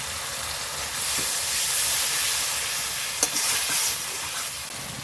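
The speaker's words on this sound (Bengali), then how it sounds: "এখন আমি সব মশলাগুলোকে ভালো করে কষিয়ে নেব। সামান্য পরিমাণে একটু জল দেব মশলাতে।" Spices for chicken dopiyaza being sautéed in a pan with a splash of water, giving a steady, close sizzling hiss broken by a few light stirring scrapes; no voices.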